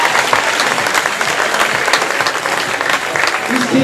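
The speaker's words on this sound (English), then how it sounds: "Let's give them a big round of applause." Sustained applause from a crowd at a prom grand march, honoring a junior class's performance, dense and steady throughout with some voices mixed in.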